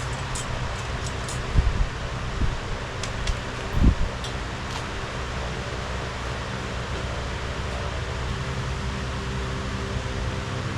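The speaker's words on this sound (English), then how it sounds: "I'll turn the fan on" An electric fan runs in a home garage with a steady, broad whooshing hiss, with a few faint knocks and taps early on over the constant airflow.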